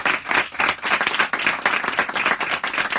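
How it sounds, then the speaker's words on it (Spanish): A modest audience at a talk on the Madrid novels of Almudena Grandes claps, individual hand claps audible as an uneven pulsing patter, fairly close and without speech over it. "pues un aplauso, por favor"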